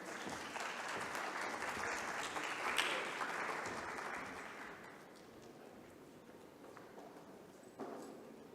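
Audience applause at the RheumaCon rheumatology conference welcoming a speaker to the stage: steady, dense clapping from a crowd that thins and softens after a few seconds, with no voices over it.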